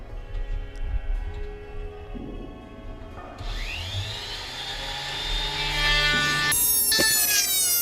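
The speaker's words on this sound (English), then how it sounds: "planing." Power planer cutting across a wooden epoxy river board, a steady loud whirring grind that shifts pitch partway through and rises toward the end, with no talk.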